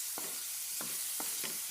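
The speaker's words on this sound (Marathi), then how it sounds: "गार्लीक आनी मिरसांग मातशें भाजली" Garlic and chillies fry in a pan with a steady close sizzle, broken by a handful of spaced scraping stirs of a utensil.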